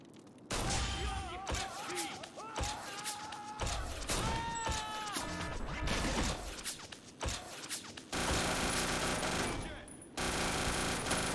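SMG gunfire rattles in rapid automatic bursts in the video game 50 Cent: Blood on the Sand, loud and close, broken by short pauses and mixed with thuds and game voices.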